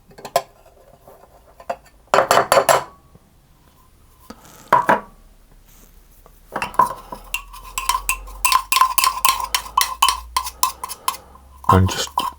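Ingredients tipped back into a small dish while making strawberry shortbread, with sharp clinks and scrapes of cutlery on crockery in bursts, the densest clatter near the end.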